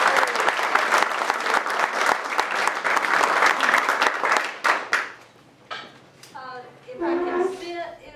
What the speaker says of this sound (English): you guys need a real round of applause for all the hard work